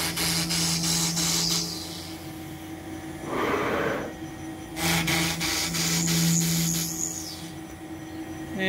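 A home-built CNC machine with an automatic tool changer drills, giving high whining spindle tones and mechanical motor whirs that rise and fall in separate bursts, with a brief rushing noise between them and no voices.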